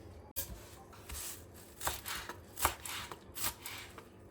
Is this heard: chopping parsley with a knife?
yes